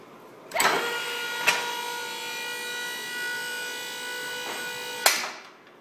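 Fifth wheel hitch sliding back on its hydraulic ram, a steady mechanical whine with a strong hum that starts with a knock, holds for about four seconds and stops with another clunk.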